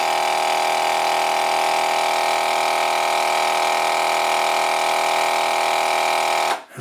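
A KitchenBoss vacuum sealer's motor hums loudly and steadily up close with a bright, even whine, then cuts off abruptly at the end.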